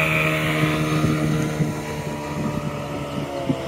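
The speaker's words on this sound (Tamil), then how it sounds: "இப்ப ஒரு ஸ்பீடு போட் ஒன்று வரும் பாருங்க" A speedboat on the Alleppey backwaters passing close to a houseboat, its steady motor hum loud and continuous with wind and water rush around it, no talk.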